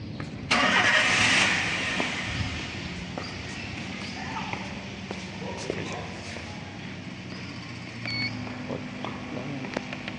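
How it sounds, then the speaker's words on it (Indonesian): A car engine is started, with a sharp cranking burst near the start that settles into a quieter running hum, while people talk over it. "Kita harus nyalakan mesin terlebih dahulu."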